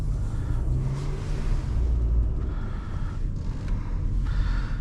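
A 2023 Toyota Highlander XSE cruises gently in normal mode, its low engine and road rumble steady from inside the cabin, with soft tyre noise and no talking.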